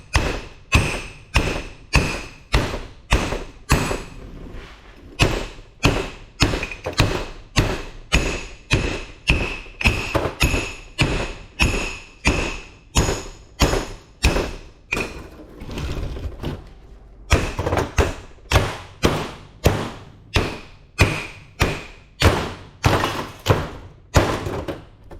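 Heavy hammer blows break the weld off a large scrap transformer: loud metallic thuds strike in a steady rhythm, about one per second, with a brief pause near the middle before the pounding resumes.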